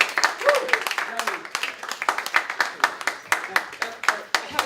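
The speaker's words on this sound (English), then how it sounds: "Big round of applause, please." An audience at a mentalist show claps with a quick, irregular patter of hands at moderate volume, with voices calling out over it.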